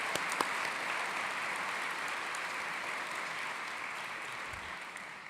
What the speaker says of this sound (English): Let's give them all just one more round of applause,